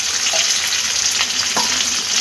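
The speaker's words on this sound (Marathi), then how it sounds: "हलक्या हाताने हिला फक्त जरासं तेलामध्ये व्यवस्थित परतून घ्यायचं, एकदम हलक्या हाताने" Stuffed capsicum gently sautéing in a little oil in a pan over a low flame, a steady soft sizzle running throughout with a few faint stirring scrapes, close and alone with no voices.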